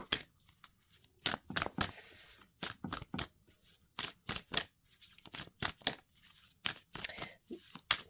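Tarot cards being drawn from a deck: a run of quick, close papery slides, flicks and crinkles in irregular bursts, fairly faint, with no talking.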